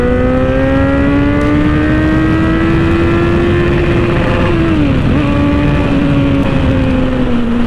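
A superbike engine revs steadily as the rider pulls away, a loud, close, continuous drone with a sustained pitch that wavers and dips midway before settling again.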